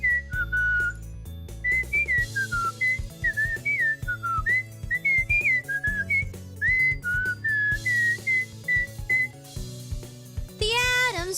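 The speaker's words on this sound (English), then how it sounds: "I can whistle." A person whistles a lively, wandering tune with many quick pitch jumps, loud and close, over a steady background of game music, ending in a rapid warbling flourish.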